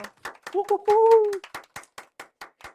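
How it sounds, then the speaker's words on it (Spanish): Applause at the close of a Spanish-language talk show. Sharp, evenly spaced claps repeat steadily, and a short voiced sound rises briefly in the middle. "Aplausos."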